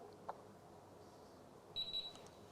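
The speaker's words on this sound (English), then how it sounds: "Beep." A printer gives a short high electronic beep as it powers off during sub-board replacement, a brief faint tone ringing out against a quiet room.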